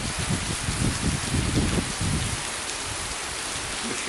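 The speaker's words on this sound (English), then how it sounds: "It was raining like this." Heavy cyclone rain pours down in Kerala, a dense, loud wash of drops drumming on nearby surfaces, more turbulent and splashy in the first half before settling into an even roar.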